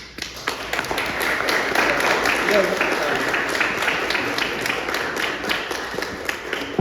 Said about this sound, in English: While you're all applauding